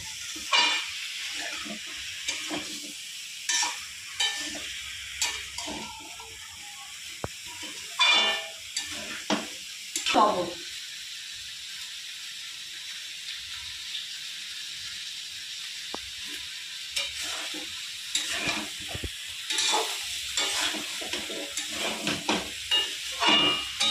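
Pumpkin, potato and brinjal sautéing in a pan for a fish-head and Malabar spinach dish: a steady hiss of frying with scattered scrapes and clatters of stirring, close and moderately quiet, no talking.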